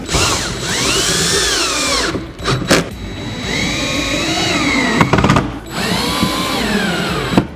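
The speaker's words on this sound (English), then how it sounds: "you'll hear it when I go in, that the clutch actually engages as I'm getting to the end" A power drill whines loudly as it drives screws while assembling a NorthPoint Cabinetry 3-drawer base cabinet, motor pitch rising and falling, with brief ratcheting clicks of the clutch engaging between runs.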